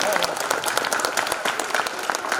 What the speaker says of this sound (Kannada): ಶ್ರೀದೇವಿ ಟೀಚರ್ಗೋಸ್ಕರ ಚಪ್ಪಾಳೆಯನ್ನು ತಟ್ಟಿ ನಾನ್ ಸ್ಟಾಪ್ ಆಗಿ